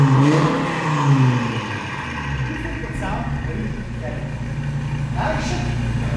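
An Audi TT RS 8J on OEM 20-inch wheels with a tuned V3 setup and HLS4 revs hard up close, then settles into a loud, throbbing idle with rumbling exhaust, while voices talk nearby.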